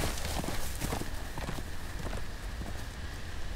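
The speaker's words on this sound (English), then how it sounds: "That's Uncle Duncan's good horse" Horse hooves clip-clop in the Telltale Game of Thrones game, a string of fairly close hoof strikes on hard ground over a low background rumble.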